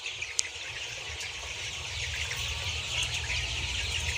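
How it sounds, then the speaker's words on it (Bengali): Young layer chicks, thirty-three days old, cluck and peep inside a poultry shed holding about 3,300 birds, with faint scattered calls over a constant low hum of the shed. "এই 3300 লেয়ার মুরগির বাচ্চা"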